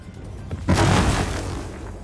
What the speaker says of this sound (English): Sound like multiple explosions going off at once